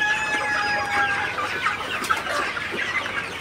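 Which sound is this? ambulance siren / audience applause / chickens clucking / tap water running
chickens clucking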